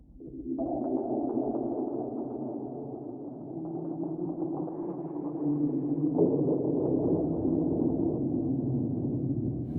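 Soundpaint 1974 Jagra synth, Unreal Worlds patch played dry without reverb: a steady, dark droning pad with shifting low harmonics, sustained and unaccompanied.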